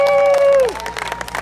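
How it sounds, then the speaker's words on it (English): Applause from a crowd at a Columbia Tea Party and Tea Party Express political event, starting under a sustained tone and a voice, then breaking into scattered, fairly close claps that thin out toward the end. "give a round of applause for Tea Party Express for inviting us and joining in with them"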